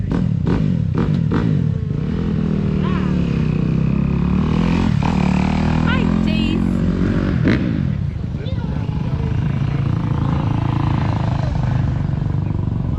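A Honda CRF 450 dirt bike engine runs nearby at a race, its loud buzzing drone rising and falling with revs and a few sharp bursts early on, while voices talk over it.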